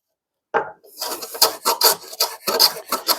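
A hand rabbet plane with an unsharpened factory edge takes light cuts along wood, producing a quick series of short, rasping shaving strokes up close after a brief silence, each pass loud and crisp.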